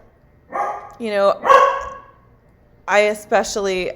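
A dog barks indoors in two short bursts, a few quick yips and barks close to the microphone with a pause between them.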